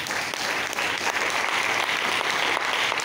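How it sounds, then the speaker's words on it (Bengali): An audience at a motivational talk in a film society hall applauds, a thick, even wash of clapping from many hands that holds steady throughout, with no one speaking. "নিজেদের জন্য যোদ্ধার হাততালি দিন।"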